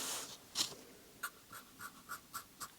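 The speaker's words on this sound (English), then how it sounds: "I'm going to draw on here just to show what we did" A pen drawing on paper, heard close and quiet as a series of short scratchy strokes in a loose, steady rhythm, alone and without talking.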